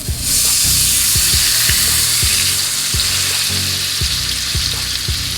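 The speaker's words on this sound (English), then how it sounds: "I'm gonna try and put my steak in and see the outcome of it." T-bone steak searing in a hot pot, a loud, steady sizzle with repeated crackling pops and spatters throughout, close and alone with no talking.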